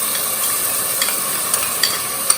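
Rice and mung dal, a cup of each, sizzle in heated ghee in a pressure cooker: a steady, close, hissing fry with small crackles and pops throughout, and no voices.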